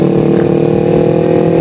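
Several motorcycle engines idle and rumble together at a Sunday morning riders' gathering, a steady, loud, continuous drone with a faint rev partway through and no talk.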